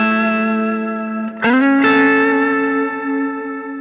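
Electric guitar played through a Keeley Blues Disorder pedal on its BB tone setting with hard clipping: a sustained distorted chord, a quick restrike, then another ringing chord that holds with thick compressed sustain, no talking.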